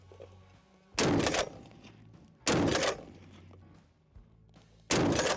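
Three very loud, close blasts from a Lynx CQB .50 caliber rifle, each a sharp boom with a short decaying tail, spaced about two seconds apart.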